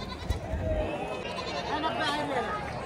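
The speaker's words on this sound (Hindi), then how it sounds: "भेड़ ही भेड़ है" Sheep bleat among a crowd at a livestock market, several wavering cries rising through steady chatter and people talking nearby.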